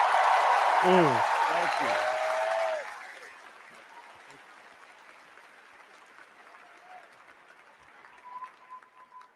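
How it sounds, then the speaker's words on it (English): Loud, dense applause fills the opening seconds, then drops away abruptly, leaving a quiet room with a few soft voices and faint tones. "let's give a big round of applause to these two guys for the great circle"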